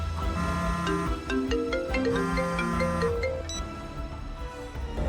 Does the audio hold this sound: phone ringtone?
yes